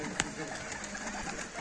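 Pigeons released from a Turkish pigeon loft, giving a brief flurry of wing sound and faint cooing over steady background noise, while people talk nearby.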